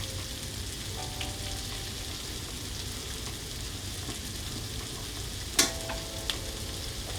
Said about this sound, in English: I came back, and I've been stirring it